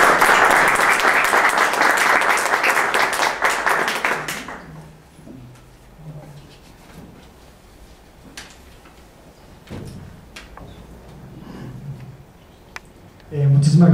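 Dense, loud audience applause welcomes Maestro Suárez Pecero at a cultural lecture on the agave landscape, filling the hall for about four seconds before dying into a quiet room with faint shuffles and a brief noise at the end.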